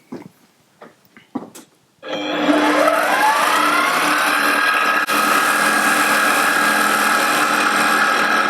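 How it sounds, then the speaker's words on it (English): A freshly restored metal lathe spins up after a few scattered knocks and clatters, settling into a loud, steady whir with a high tonal whine that holds for several seconds while machining a throttle clip in a home workshop. "I've just got my lathe working and I want to play with it."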